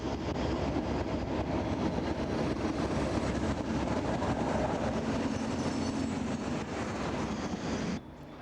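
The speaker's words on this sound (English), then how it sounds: "as the early morning sleeper nears the end of its overnight run from Glasgow and London." A 1965 Class 37 diesel locomotive, number 37401, hauls the overnight sleeper train from Glasgow and London into Fort William, a loud, steady rumble of engine and rolling wheels that drops off abruptly near the end.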